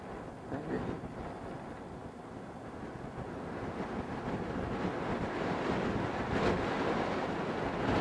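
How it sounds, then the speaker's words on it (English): Steady wind gusting outdoors while camping in the Utah desert near abandoned mines, a broad rumbling buffet against the microphone that swells slightly louder over the stretch, with no voices. "The wind is blowing me all over the place."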